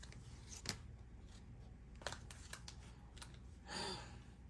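Tarot cards being shuffled by hand, soft sporadic flicks and riffles of a deck, quiet and close with a longer riffle near the end, no talking.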